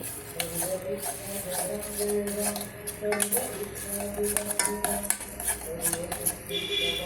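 A spoon stirs a hot drink thickening in a metal pan, with continuous scraping and clinking against the pan's sides and bottom, close and steady, with faint background voices.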